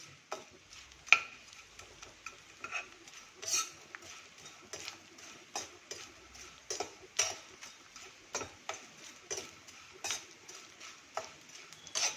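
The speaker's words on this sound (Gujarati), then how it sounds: "આપણો ગુંદ બધો આવી રીતે આપણે શેકી લેશું" Edible gum (gond) roasting in a pan, soft scraping and clinking of a spoon stirring against the pan, with irregular light taps and faint sizzle, quiet and close, no talk.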